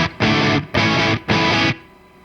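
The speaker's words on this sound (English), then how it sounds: "the original reverb tail keeps going" Neunaber Immerse Mk1 reverb pedal with trails on: three loud, distorted guitar bursts, then a quieter reverb tail that lingers and fades away after the pedal is switched off.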